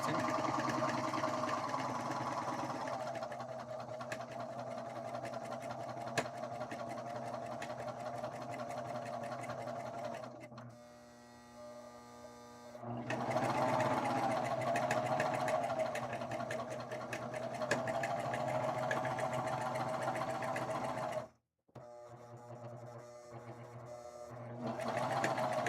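A serger sewing machine cuts and stitches fabric in rapid, steady whirring bursts, running continuously with two brief pauses where the motor stops and restarts, fairly quiet and close.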